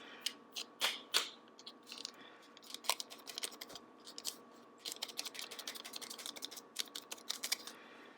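Quiet, irregular taps and light crinkles from fingers tapping the side of a plastic bag holding slime ingredients such as baking soda and color change powder, close and soft, in uneven clusters.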